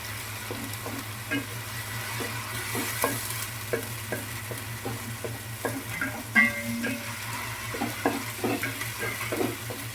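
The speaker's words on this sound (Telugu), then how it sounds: "ఈ అల్లం వెల్లుల్లి పేస్ట్ కూడా పచ్చివాసన పోయే వరకు అయితే వేయించుకుందామండి" Ginger garlic paste fries in a pan for a tomato masala gravy, with a soft continuous sizzle broken by frequent light clicks and scrapes of a spoon stirring, close and without voices.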